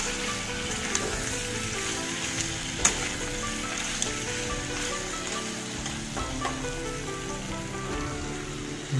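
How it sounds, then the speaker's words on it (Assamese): Potatoes and pork fry together in a pan, a steady dense sizzle running throughout, with a few sharp ticks and clinks from stirring. "আলুখিনি দি গোটেইখিনি ফ্ৰাই কৰিব।"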